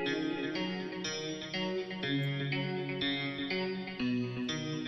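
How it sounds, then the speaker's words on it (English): An Omnisphere software guitar part plays in a music production, a steady run of picked chords and notes soaked in delay and chorus effects, layered and continuous for several seconds with no talk. "I added this Omnisphere guitar, and it just sounds like this."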